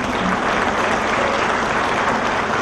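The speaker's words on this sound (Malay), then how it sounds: "Mari kita berikan tepukan gemuruh dan syabas kepada atlet-atlet ini." Thunderous applause for national athletes at a sports awards ceremony, a dense, steady roar of clapping from a large crowd, loud and continuous.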